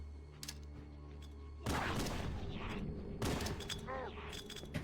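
Grenade blasts from the Triple Nade trick in Halo: Combat Evolved, a loud burst of explosions and gunfire-like booms that erupts partway through and continues densely over game sound effects.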